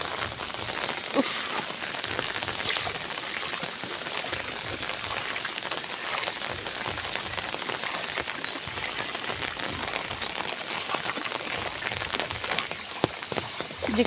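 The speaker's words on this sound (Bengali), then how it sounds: "কি বৃষ্টি হচ্ছে এখনো, এই বৃষ্টি তো থামার কোনো নামই নেই।" Heavy rain pours down without a break, a dense, even hiss of drops hitting surfaces that stays loud and constant throughout.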